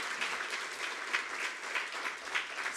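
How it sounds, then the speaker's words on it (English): Applause from a forum audience in a hall, sustained and fairly even clapping from many people with a few louder swells, moderately close and without talk. "please, wild applause again for Ivan Prokovic, Dee Backman-Hoyle and Irene Cleland"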